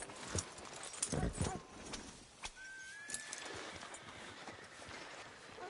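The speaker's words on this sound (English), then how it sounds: "Are you gonna mount that new horse of yours or not?" Horse hooves clip-clop in Red Dead Redemption 2, a scattered run of hoof strikes close by, with a brief tonal whistle partway through over a soft game ambience.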